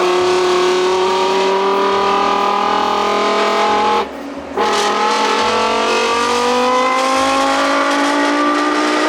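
First-generation Lamborghini Gallardo engine revving loudly and continuously, with rising harmonic tones like a dyno run and a brief cut in sound near the middle before the revs climb again.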